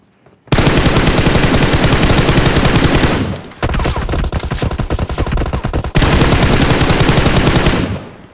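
Sustained automatic gunfire from the mobile battle-royale game PUBG Mobile, a dense rapid burst lasting about three seconds, a brief quieter stretch, then another long loud burst, close and alone without talk.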